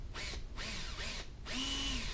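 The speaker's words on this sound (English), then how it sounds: "trying to drill this onto a flat surface with no starter hole" A power drill starts a hole in an AR-15 muzzle device at a center-punched mark, its whine rising and dipping in short spurts as the bit bites into the steel, fairly quiet with no talking.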